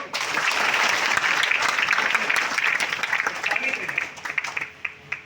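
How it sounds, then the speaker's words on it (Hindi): A seminar crowd in Godda, Jharkhand claps for itself, loud dense applause that starts at full strength and slowly thins into scattered claps toward the end. "अपने लिए एक बार ताली तो बजा लो।"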